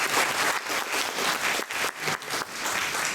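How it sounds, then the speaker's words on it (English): A crowd at a political campaign event applauds steadily, a dense wash of clapping filling the room without pause for about three seconds. "Let's hear a round of applause for them."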